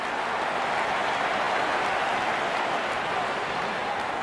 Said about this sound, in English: Crowd on their feet to cheer the moment.